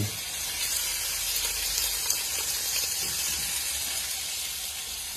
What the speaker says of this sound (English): Bacon is going to go in.